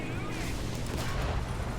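Tank cannon and machine-gun fire in the War Thunder video game, a dense continuous barrage of shots and rumble that stays loud throughout the short stretch.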